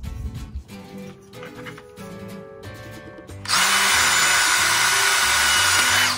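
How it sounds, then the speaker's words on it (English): A power drill boring a hole for an RV screen door cross bar, a loud steady whine that starts abruptly partway through and runs to the end, after quieter handling sounds. "drill one hole."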